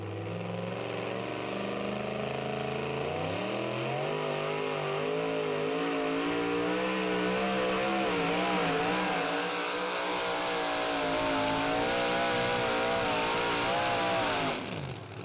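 A 2WD pulling truck named After Midnight roars at a tractor pull in Saluda, SC, its engine climbing sharply after a few seconds into a loud, sustained high-revving howl that wavers in pitch before cutting off near the end.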